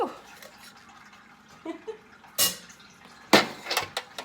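Turkey drippings being poured and strained give off a few irregular wet splashes and sloshes, with faint dripping and a clink of a utensil in a kitchen setting.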